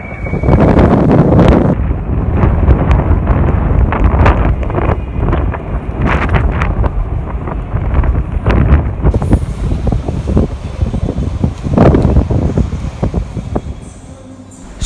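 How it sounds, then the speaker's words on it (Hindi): Strong gusty wind outside a Las Vegas mall buffets the microphone throughout, loud rumbling blasts rising and falling with no clear speech. "इतनी ज़्यादा तेज़ हवा चल रही है यहाँ पे।"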